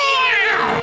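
A single drawn-out cat meow, loud and close, sliding downward in pitch and stopping abruptly, in a cartoon with no talking over it.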